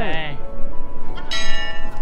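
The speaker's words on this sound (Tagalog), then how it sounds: "Siyam na beses nating kinalembang ang kampanilya." A bell clangs with bright ringing tones that sustain and decay, and a second strike lands near the end over a noisy background. The nine strikes the scene describes cannot all be picked out.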